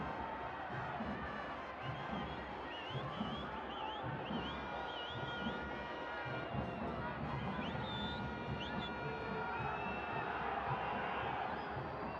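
A stadium crowd at a Central American club football match between Real Estelí and CAI roars in a steady, dense wash of cheering and whistles that holds throughout, with scattered shouts rising above it.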